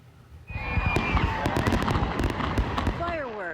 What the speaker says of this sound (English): fireworks, a fixture of 4th of July celebrations.